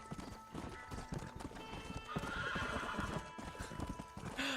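Horse hooves clip-clopping in Red Dead Redemption, a steady galloping rhythm of thuds with a horse whinny near the end, close and moderately loud over in-game ambience.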